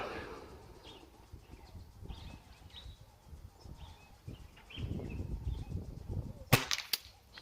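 A Weihrauch HW50S .177 air rifle fires a single JSB slug near the end with one sharp, crisp crack outdoors. Faint rustling and distant bird calls come before it.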